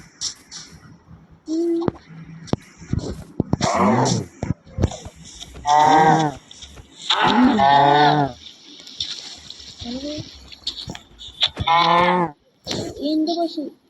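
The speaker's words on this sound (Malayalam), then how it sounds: "എന്റെ പശു" Cartoon cows moo in a Minecraft animation: several drawn-out, tonal moos rise and fall across the stretch, with a voice talking in between.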